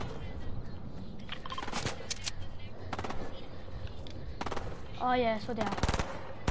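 Bursts of automatic gunfire ring out in the video game Fortnite, several sharp rapid volleys scattered across the clip, with players talking over them.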